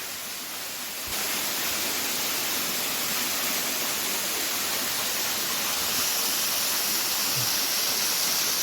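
Steady broadband rush of water from Middle Black Clough waterfall, a constant hiss-like roar that swells slightly after the first second and stays even, with no voices.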